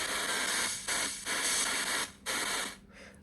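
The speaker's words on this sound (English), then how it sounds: "It's what a spirit box normally sounds like" A spirit box sweeping through radio static with its noise gate turned down, giving a loud, harsh wash of hiss that chops off into brief gaps several times as the channels switch.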